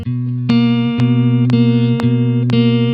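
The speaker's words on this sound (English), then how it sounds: "we'll add some wobble to make it sound a bit like a warped vinyl" A lo-fi beat layer run through RC20 with a wobble effect plays sustained low chord tones that bend and waver like warped vinyl, punctuated by sharp percussive hits about every half second.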